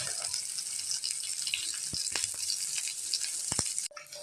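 Chopped onions sizzle in hot oil with popping mustard seeds and curry leaves for a banana-flower kootu. A steady bright hiss carries through, with occasional scrapes and clinks, and it drops away near the end.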